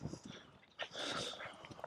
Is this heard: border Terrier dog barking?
yes